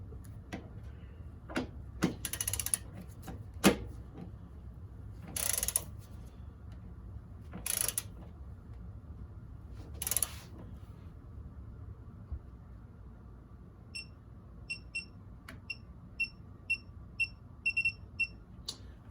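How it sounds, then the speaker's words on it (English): A digital torque wrench tightens a corroded engine mount bolt: ratcheting clicks and mechanical clatter come first, then a series of short electronic beeps, all close and fairly quiet with no voices. "So turn this torque wrench back on because it just turns off on its own."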